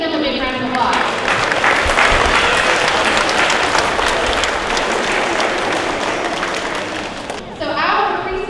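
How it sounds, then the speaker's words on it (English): An elementary school audience claps for kindergarten helpers, a dense, loud burst of applause sustained for several seconds before a speaking voice returns at the end. "Let's give them a big round of applause."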